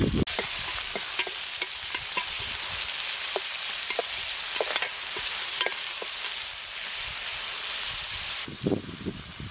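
Tomato and mixed vegetable pieces sizzle and fry in a pan for an Andhra village-style mixed vegetable curry, with a steady loud crackle and repeated stirring scrapes close by.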